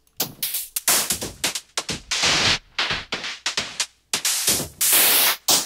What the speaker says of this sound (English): that's actually a vocoder